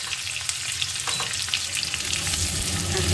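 Chopped onion and green chili frying in hot oil in a pan for a Bengali mustard rohu fish curry, a loud, close, steady sizzle with occasional stirring clinks and spatters.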